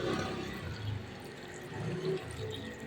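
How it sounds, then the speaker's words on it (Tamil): Water pours steadily into a cooking pot with a continuous gurgling splash, close by, swelling slightly toward the end. "இப்போ தண்ணி ஊற்றிக்கலாம்."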